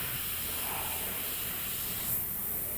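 An airbrush with a 0.35 nozzle sprays paint onto a flaming skull design, a steady close airy hiss that holds evenly for a few seconds with a slight surge near the end.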